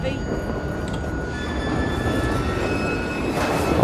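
Train ride in the video game Assassin's Creed Syndicate, a continuous low rumbling rattle of carriage and wheels with faint tonal hums, steady throughout and rising slightly at the end.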